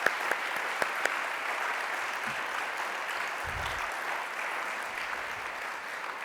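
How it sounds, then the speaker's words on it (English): A hall audience at the University of Detroit Mercy Spirit Awards Ceremony gives sustained, even applause for the awardees. The clapping stays dense and steady throughout, with a few sharper claps near the start. "I'd like us all to give them one grand Detroit Mercy round of applause"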